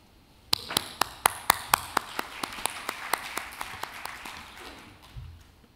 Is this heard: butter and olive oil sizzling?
no